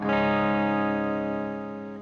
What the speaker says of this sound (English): Can we clean up this tone? Let's roll the volume back a good bit to start.